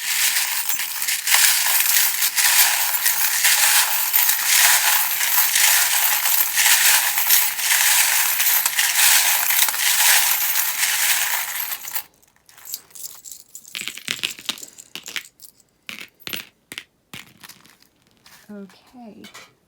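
A deck of tarot cards is shuffled in loud, continuous papery riffling for about twelve seconds, then gives way to quieter, scattered card handling and taps.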